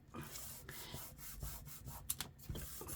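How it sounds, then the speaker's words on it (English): Glued paper card pressed and rubbed by hand for an accordion notebook, a faint, steady close scuffing and brushing with small uneven strokes. "Give it a good old rub."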